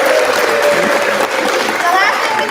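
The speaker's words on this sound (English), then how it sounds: "So if you will give them one more round of applause." An audience claps through a short, dense burst of applause at a high school spring concert, with crowd murmur and some talk mixed in.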